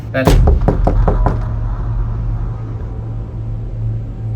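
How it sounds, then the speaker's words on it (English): A quick series of about five sharp knocks, close and loud, followed by a low steady hum that continues to the end. "I don't know, it was like a knock or something"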